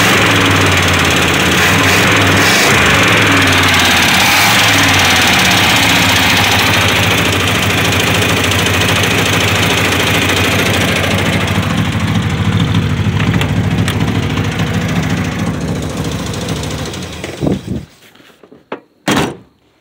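A cold 307 V8 in a 1985 Buick LeSabre hearse is revved, giving a loud, steady engine roar for around seventeen seconds that then cuts off, leaving a few faint clunks near the end.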